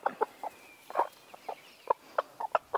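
Hens in a farmyard in Corsica cluck in short, close, repeated bursts as they are fed scraps, with no voices.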